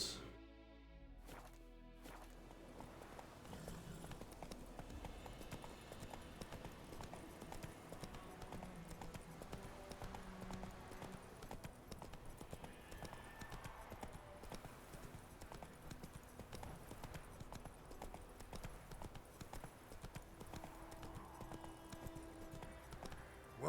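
Geralt rides Roach in The Witcher 3 game, the horse's hooves clip-clopping in a steady, continuous rhythm over background game music, with occasional talk.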